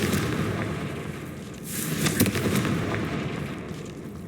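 Confringo explosive spell blasts in Hogwarts Legacy land as a dense roar of crackling booms, swelling midway with a sharp burst and lingering rumble, loud and close with no talking.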